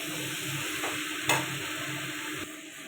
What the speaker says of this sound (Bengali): এবার দিয়ে দেবো মোচা। এটা ভালো করে কষাতে থাকবো।